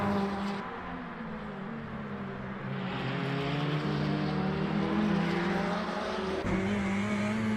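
A Ferrari GTE race car in the Le Mans Ultimate racing game drives past with a sustained engine drone. The engine's pitch climbs steadily as it nears, then drops sharply near the end as it goes by.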